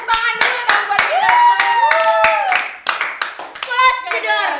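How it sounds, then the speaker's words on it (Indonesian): A small group clapping hands in a lively Indonesian variety show, sharp separate claps in an uneven rhythm, with excited voices and a high, squeaky vocal sound over the top. "tepuk tangan dulu dong buat kita"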